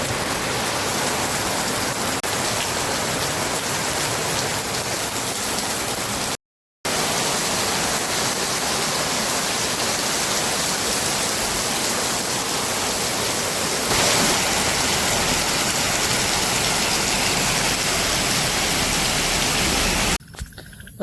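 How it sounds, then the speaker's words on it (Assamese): Heavy rain falling, a loud, dense, continuous hiss that fills the scene, broken only by a short silent gap. "আৰু এইফালে চাব পাৰে বৰষুণ একবাৰ"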